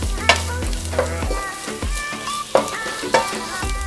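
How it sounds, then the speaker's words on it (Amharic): Sliced garlic sizzles loudly in a hot pan, with repeated clanks and scrapes of stirring every half second or so over a constant close frying hiss. "ሁለት በቁመት የተከተፈ ነጭ ሽንኩርት አረግበታለሁ። ትንሽ እሳቴን ጨመር አድርጌያለሁኝ።"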